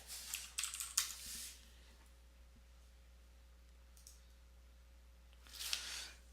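Typing on a computer keyboard during command-line work: bursts of quick, close key clicks at the start and again near the end, separated by a quiet pause, with no talking.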